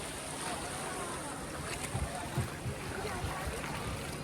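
A speed boat runs on the open sea with a steady engine rumble and wash of water and wind, fairly close.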